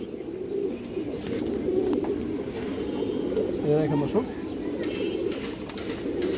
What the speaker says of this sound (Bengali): এটা মাদি কৌতরটা এটা নর কৌতর